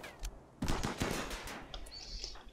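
Gunfire rattles in the RimWorld colony game, a quick burst of sharp shots after a brief lull, fading into scattered pops and a faint chirp.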